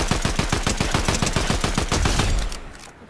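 Rapid, evenly spaced automatic gunfire from the Fortnite video game, loud and close, a long sustained burst that stops abruptly near the end, with no talking over it.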